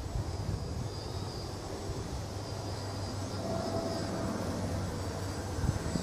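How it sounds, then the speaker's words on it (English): An RC VTOL model aircraft flies in slow forward flight mode, its steady electric motor whine and propeller drone holding level and continuous at moderate distance over wind noise. "I'm going to put it in slow forward flight mode"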